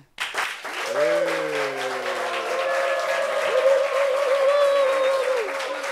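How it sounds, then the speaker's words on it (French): A studio audience bursts into sustained applause for a guest at a televised reunion, loud and steady throughout, with tonal cheers or music rising over the clapping. "je veux que le public vraiment l'acclame"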